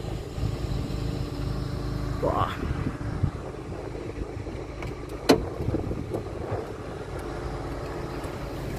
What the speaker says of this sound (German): Stille, eine Stille, außer den Motor hörst du.